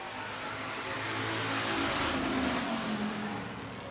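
Sport compact or hobby stock race cars at Buena Vista Raceway drone past through the turns, a blended engine roar swelling and fading at moderate distance with no talk.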